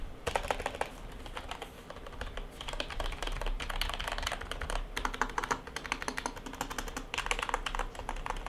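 Steady, fast typing on a lubed budget mechanical keyboard, with dense overlapping keystrokes that continue without a break and no voices.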